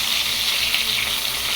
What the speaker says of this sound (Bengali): তেলাপিয়া মাছটা হলো আমার জন্য আর আমার ছেলে মেয়ের জন্য, জাস্ট নর্মালি একটু ফ্রাই করতে চাইছি